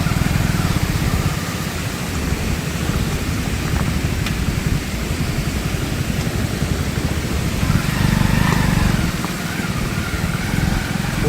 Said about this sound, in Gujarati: હજી પાણી આવકમાં છે એટલે કમાડિયા હજી પાણી જાય છે